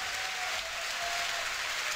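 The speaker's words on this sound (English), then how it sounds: "Crowd excited to see the MKB pick up" Arena crowd at a Dota 2 International tournament cheering and applauding, a dense, steady roar of clapping and voices filling the whole stretch without letup.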